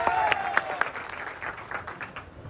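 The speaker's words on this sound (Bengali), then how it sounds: "একটু জোরে হাততালিটা হবে ভাইয়া।" Crowd clapping at the CF Moto motorcycle grand opening, a burst of applause near the start that gradually thins and fades toward the end.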